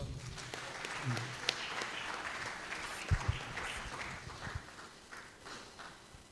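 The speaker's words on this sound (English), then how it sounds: "So I would like our audience to please give her another round of applause." An audience at a cassava conference gives a round of applause, sustained moderate clapping across the hall with a few louder claps standing out, continuing steadily throughout.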